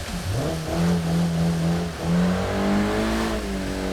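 A newer Mazda MX-5 engine in the racing game JDM Japanese Drift Master, revving up in smooth sustained surges with a rising pitch, loud and up front with no talking.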